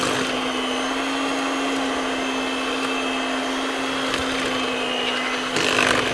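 Electric mixer whirring steadily as it beats wet chocolate chip cookie batter with vanilla, a loud constant motor hum with a slight rise in intensity near the end and no talking.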